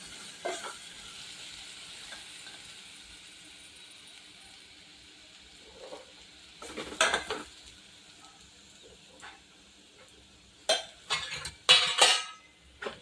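Hot, tempered spiced chickpeas go into a tin snack box, heard as scattered metallic clatters and rattling bursts, strongest near the middle and toward the end, separated by quiet stretches.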